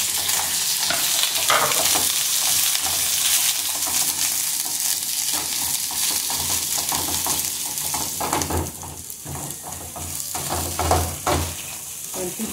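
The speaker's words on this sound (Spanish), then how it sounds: "Ahora le vamos a echar la cebolla." Onion tossed into a pan with garlic already fried golden, frying with a loud continuous sizzle and hiss, stirred with occasional utensil scrapes, close up, the crackle easing briefly then swelling again.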